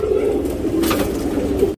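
A pigeon coos close by, a low soft throaty warble repeating steadily for a couple of seconds before the clip cuts off.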